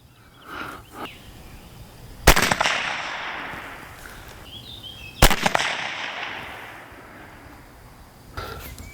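Two sharp, loud shots from a Retay S2022 blank-firing pistol loaded with a rubber ball, spaced about three seconds apart, each followed by a ringing outdoor echo and decay, with a fainter bang near the end.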